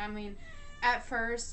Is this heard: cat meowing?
yes